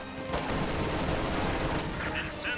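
Light machine guns fired by LMG Grenadiers in a strategy game, heard as a steady, dense rattle of overlapping gunfire that runs through the whole moment, with a few brighter impact sounds near the end.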